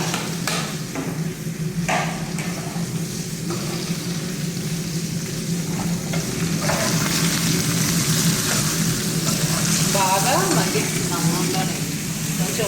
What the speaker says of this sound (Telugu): పచ్చిమిరపకాయలు బాగా వేగినాక ఇప్పుడు బీరకాయలు కూడా వేసి బాగా మగ్గబెట్టుకోవాలా